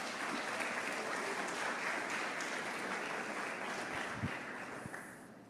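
A church congregation applauds continuously, a dense, steady wash of clapping that holds at an even level throughout with no break.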